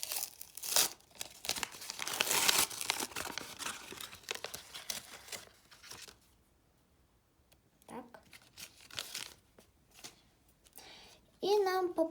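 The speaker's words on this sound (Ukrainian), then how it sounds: "Відгортаємо нашу сторіночку і відкриваємо пакетик." A paper surprise packet is opened by hand, giving close, loud crinkling and tearing paper rustles in bursts, a short quiet pause, then more handling, with a voice at the very end.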